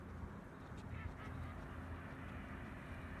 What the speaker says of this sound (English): And I heard a duck going.